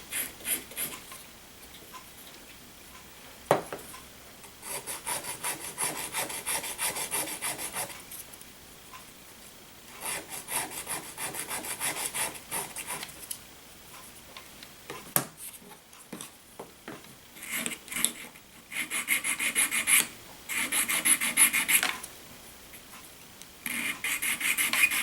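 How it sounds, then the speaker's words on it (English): Someone hand-sands wood with steady back-and-forth rasping strokes, working in rhythmic stretches with brief pauses and a few knocks, close-up and alone. "Take most of it off with a knife. And then sand it."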